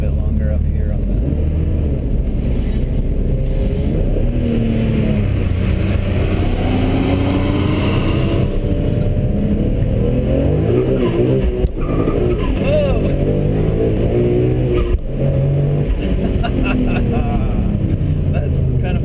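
A twin-turbo right-hand-drive BMW E46 M3 accelerates hard, its engine a loud, sustained roar that climbs in pitch through the gears from inside the cabin, with someone talking over it.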